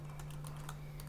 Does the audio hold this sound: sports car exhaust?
no